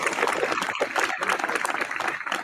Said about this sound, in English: everybody give Ms. Double D Mother a good a round of applause, please